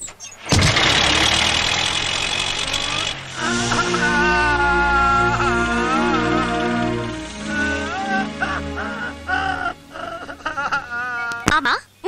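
A car engine turns over and starts, then settles into a rough, rumbling idle with uneven knocking, loud and close, while people talk over it throughout.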